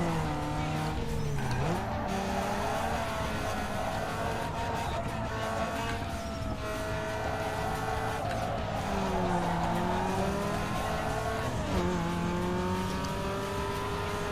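Race cars in Need for Speed Underground 2 roar around a circuit with chicanes, engines revving and shifting while tires squeal through corners in a loud, continuous stretch.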